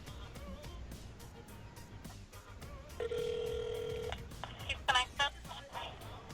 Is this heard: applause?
no